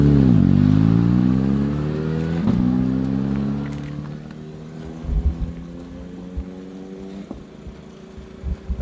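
A rally car on the Laidze special stage of Rally Liepāja roars past close by in hot weather, its engine pitch falling as it passes, then fading into the distance with a few faint clunks and gravel pops.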